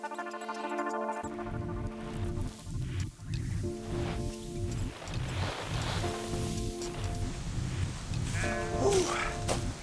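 Sheep on a homestead pasture in an Australian winter bleat loudly and repeatedly, several overlapping calls close by, with a low, rhythmic rustling underneath throughout.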